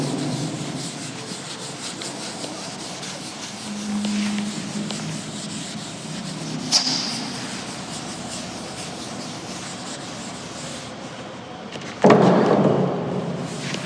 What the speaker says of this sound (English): Okay, now I'm just rubbing it.